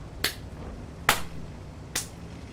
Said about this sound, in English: clap warning